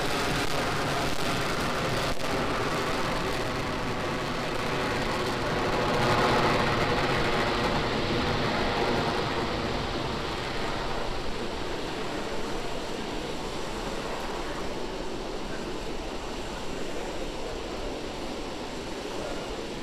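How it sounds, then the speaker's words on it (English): A SpaceX Falcon 9 rocket carrying Starlink satellites climbs after liftoff, heard as a steady, broad rumbling roar with crackle. It holds fairly constant throughout, with no talk. "we've just had a nominal liftoff of our Falcon 9 vehicle carrying our Starlink payload on its way to its targeted orbit"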